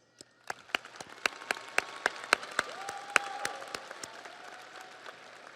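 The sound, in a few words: graduates giving a round of applause at commencement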